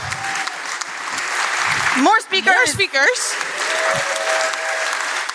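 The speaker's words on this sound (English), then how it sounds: "Keep clapping. Just keep clapping." An audience claps steadily through the closing of a conference as the organizers thank the speakers, while a presenter talks loudly over the applause in the middle.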